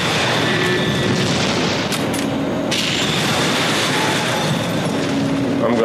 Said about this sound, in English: Look at this explosion.